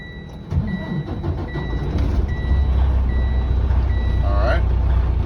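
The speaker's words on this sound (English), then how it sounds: "And I'm gonna start my truck." A truck with an automatic transmission cranks and starts, its engine catching and settling into a loud, steady rumble, while a repeated electronic beep chimes throughout and a voice is heard briefly.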